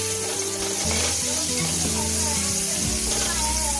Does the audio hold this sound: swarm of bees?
no